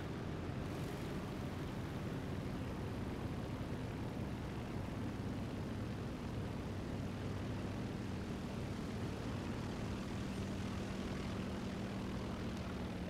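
Steady, continuous drone of a fighter plane's piston engine in War Thunder, an unbroken propeller roar holding at a constant level throughout with no voices.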